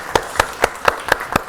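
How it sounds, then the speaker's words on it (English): A small audience claps in a lecture hall, with six evenly spaced sharp claps across the stretch. They ring out clearly with no talk over them. "Give him a round of applause"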